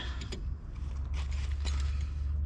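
Brake caliper piston being pressed back in on a Fiat Punto during a brake pad change, a close, low mechanical creaking and grinding with a few clicks over a steady low rumble, no talk.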